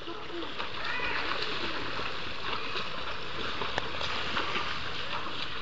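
Someone swimming and splashing in water, a steady wash of splashes running throughout, close and moderately loud, with voices calling out over it.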